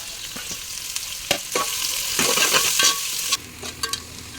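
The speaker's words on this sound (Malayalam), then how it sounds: "ഉള്ളിൻ്റെ കളർ മാറുന്നത് വരെ ഇളക്കി കൊടുക്കണം" Sliced onions are stirred and fried in hot oil, giving a steady sizzle broken by scraping strokes of the spoon and a few knocks against the pan.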